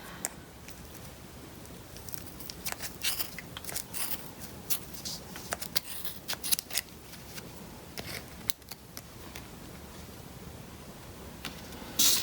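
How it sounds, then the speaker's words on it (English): Small sharp scissors snip into a wool pom-pom at close range, giving a scattered series of crisp cutting clicks and rustles over a quiet background, with no talking. "And you carefully cut into your pom-pom."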